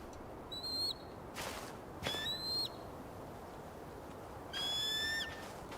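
An eagle calls in the video game Tell Me Why: three separate high, whistling cries that slide downward, spaced a second or more apart over a quiet background, with no talking.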